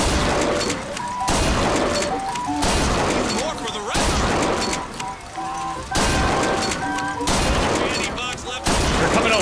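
Rapid, loud gunfire bursts from a shooter game at a fairground, repeating in dense volleys with brief gaps, close and harsh, with a player talking over it.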